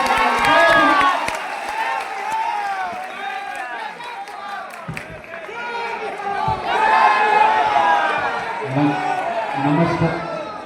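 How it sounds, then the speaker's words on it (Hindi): A crowd at a Jan Suraaj party gathering in Bapu Sabhagar, Motihari, cheers and shouts to welcome Prashant Kishor, many raised voices overlapping loudly in waves, with scattered clapping beneath. "एक बार जोरदार तालियों से प्रशांत किशोर जी का स्वागत करें।"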